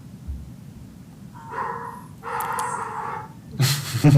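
A dog gives a few short barks and yips in a quiet room, fairly close but soft, with a louder burst at the end.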